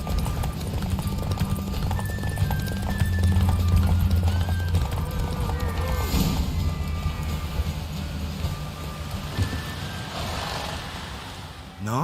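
Steady clip-clop of a mare's hooves at a quick gait during a race in The Witcher 3: Wild Hunt, with a whinny and a busy mix of game sounds layered over it.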